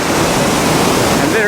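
The roar of Niagara Falls heard up close, a dense, steady rushing wash of falling water with some wind buffeting and a brief voice near the end.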